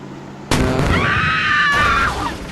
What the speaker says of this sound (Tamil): ராக்கெட் லான்ச்சர் வச்சு காலி பண்ணுவோமா